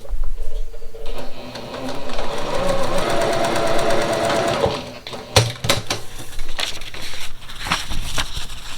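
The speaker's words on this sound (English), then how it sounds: "I'm going to sew right along this A1 line." A sewing machine stitches steadily along a line on a Pickle Dish quilt block, a loud close mechanical whir lasting several seconds before stopping, followed by scattered handling clicks and fabric rustle.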